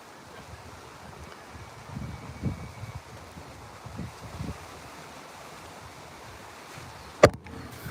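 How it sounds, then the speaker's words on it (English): Wind buffeting a phone microphone on a gusty day at the ocean shore by a rock, low rumbling gusts rising and falling with a sharp knock near the end, no speech. "that's the wind blowing my phone right down"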